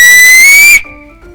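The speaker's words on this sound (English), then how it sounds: "Still got the whistle." A loud, steady high whistle held for most of a second, then cut off, leaving a fainter tone lingering in a quiet room.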